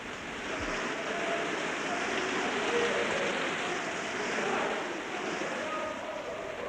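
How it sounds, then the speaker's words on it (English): Forceful rushing water fills an underwater cave, a loud, steady broadband roar of spray and churning flow that holds constant throughout with no break. "The force of the water is considerable and threatens all the time to sweep the caver away"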